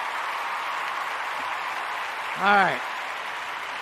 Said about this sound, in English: I got to give you a round of applause